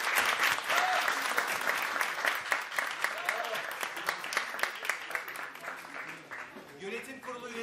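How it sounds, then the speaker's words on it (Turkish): A banquet crowd at a Film-San Foundation iftar dinner breaks into loud sustained applause for a re-elected foundation president, many hands clapping densely, with a few voices and murmurs mixed in as it slowly thins. "Ona bir kocaman alkış almak istiyorum."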